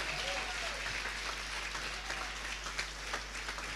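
A church congregation applauds at a sermon, a fairly quiet, steady wash of clapping heard at a distance, with a low hum and faint voices underneath.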